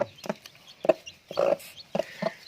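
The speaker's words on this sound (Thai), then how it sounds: "ที่รอจนพอลูกไก่เขาออกแล้วพี่เอฟก็เอาไป อนุบาลต่อเลยนะครับ" A mother hen on a farm, with newly hatched chicks and eggs still hatching, clucks close by in short, uneven bursts, with thin high chirps mixed in and no talk.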